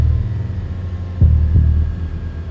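A Ford RS car with a newly fitted exhaust, a deep steady rumbling idle from close by with two brief throbbing pulses as the engine is blipped, no voices over it.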